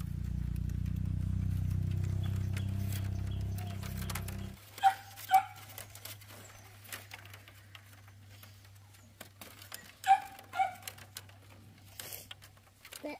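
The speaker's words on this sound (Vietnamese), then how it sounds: "Con chó nó đói lắm rồi. Nó vừa chăn mà. Ừ. Con chó nó cứ kêu ạ." A hungry dog whimpers and yelps in short, high-pitched bursts at a rural home, several separate cries spaced out over a steady low hum, after a louder stretch of rumbling noise at the start.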